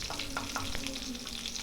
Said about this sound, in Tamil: இந்த ஸ்டேஜ்லேயே கருவேப்பிலை போட்டு நல்லா வதக்கி விட்டுருங்க